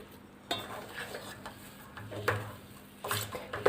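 A spoon stirs and scrapes a moong dal and semolina sweet cooked with ghee in a pan over a medium flame, producing intermittent scraping strokes and soft metallic knocks against the pan.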